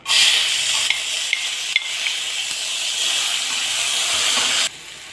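Onions sautéing in a pot of oil and ghee give a steady, loud, close sizzle with a few stirring clinks, cutting off sharply near the end.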